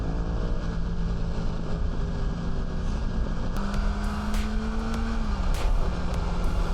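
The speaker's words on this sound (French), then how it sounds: "Wow, Ferrari." A Ferrari sports car drives past on a winding valley road, its engine note rising and shifting in pitch over steady loud road and wind noise from a nearby vehicle.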